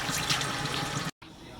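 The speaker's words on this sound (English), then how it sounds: "I'm just going to make sure and rinse it off properly before I put it into the pot" Water running over peeled cassava as it is rinsed before boiling, a steady close trickle and splash that cuts off briefly, then continues more quietly.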